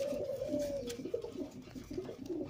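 A Teddy high-flying pigeon from Pakistan gives a drawn-out coo up close, followed by softer short coos against quiet surroundings.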